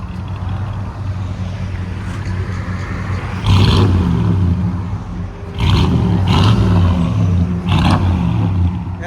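A 1972 Oldsmobile Cutlass with a 350 Rocket V8, running rich, idles with a lumpy rumble and then revs loudly in several sharp bursts, close by and without talk.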